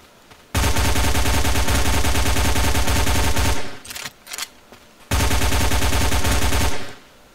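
Loud automatic gunfire in The Zone, a long sustained burst, then a brief pause broken by a few short shots, then another long burst that cuts off.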